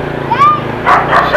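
A dog gives a few short yips and barks nearby, mixed in with people talking over it.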